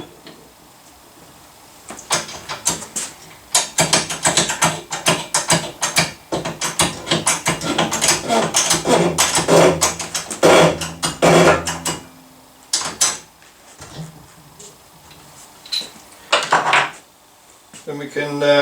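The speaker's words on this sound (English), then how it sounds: "The crankshaft bearing with its groove on the outside, we'll press that on." Pressing a new crankshaft bearing onto a Yamaha PW e-bike motor: dense metallic clanks, clicks and scraping taps come in busy bursts, close and fairly loud, then thin out into a few separate knocks near the end.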